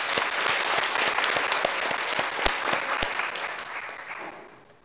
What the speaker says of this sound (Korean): 하나님께 영광의 박수를 하나님께 올려드리도록 하겠습니다